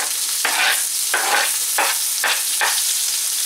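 Half an onion, finely chopped, frying with garlic in a pan for Mexican-style beef tacos: a constant hiss broken by five rhythmic bursts of stirring, close and fairly loud, with no speech.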